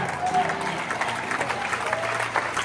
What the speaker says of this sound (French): Dans la salle, il y en a qui sont en train d'acclamer.